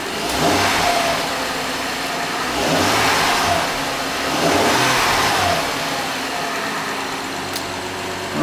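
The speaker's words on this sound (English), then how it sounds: "let's do just a couple quick little revs." An Acura MDX engine fitted with a K&N air filter revs up loudly several times, rising and falling between brief idles, close by with no talking.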